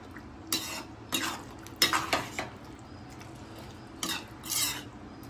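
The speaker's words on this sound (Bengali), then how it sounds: "এবার এটা ভালোভাবে নাড়িয়ে নেব।" Kasuri methi being stirred into navratan korma in a pan: a spoon scrapes and clinks against the pan in several short bursts over a faint sizzle, close and fairly clear, with no talking.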